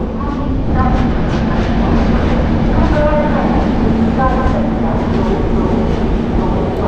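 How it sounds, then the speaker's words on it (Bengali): Falaknuma Superfast Express coming into Kharagpur Junction, a loud continuous rumble of moving coaches with faint squeal-like tones, heard from close by with some indistinct voices mixed in. "ফলকনামা এক্সপ্রেস এসে পৌঁছেছে তার 6তম স্টেশন খড়গপুর জংশন"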